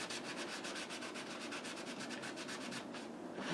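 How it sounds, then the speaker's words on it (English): A rag rubbing cleaner into a surface, quick rhythmic back-and-forth scrubbing strokes, close and steady, with no voices. "A little squirt of cleaner on it, work it in, and then that's why you need this trusty old rag."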